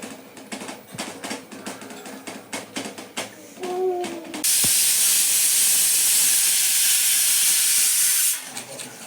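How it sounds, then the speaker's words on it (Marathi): A pressure cooker on a gas stove lets out a loud, steady hiss of steam for about four seconds, after quieter kitchen clatter and a brief whistle-like tone at the start. "कुकर लावलेला आहे"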